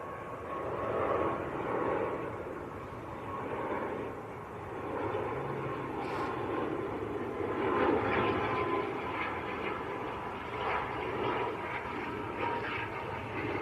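Aer Lingus airliner from Dublin arriving at Manchester Airport, heard from a distance as a soft, broad jet rumble that rises and falls gently, with no talk.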